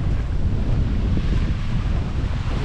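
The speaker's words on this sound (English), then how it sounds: "it's a little bit windy" Strong wind at the seaside buffets the microphone with a continuous loud, rumbling roar and gusty texture, with no voices present.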